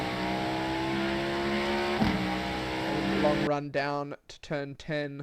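Cadillac GTP race car in iRacing at Road Atlanta roaring at full throttle with steady high-pitched engine whine and upshifts, then someone talks over the continuing engine note.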